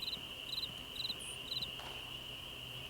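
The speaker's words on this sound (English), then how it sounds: "Oh, cricket. 2 crickets." Crickets chirp in the Nancy Drew game Ghost Dogs of Moon Lake, quick regular trills repeating about every half second over a steady high insect drone, quiet and close.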